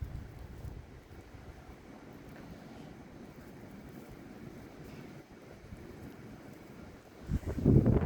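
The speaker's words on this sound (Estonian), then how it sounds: "Täna on nii tugev tuul." Strong wind blows outdoors in a steady low rumble of gusts buffeting the microphone, swelling louder in the last second; no voices are heard.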